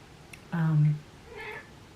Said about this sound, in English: there's my kitty letting me know it's sunbathing time